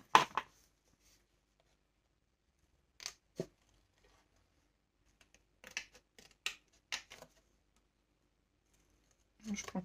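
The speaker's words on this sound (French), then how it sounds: "je vais venir faire un petit arrondi avec les ciseaux" Small scissors snip a rounded corner on a paper card, giving a few quiet, separate cuts spread over several seconds in an otherwise hushed room.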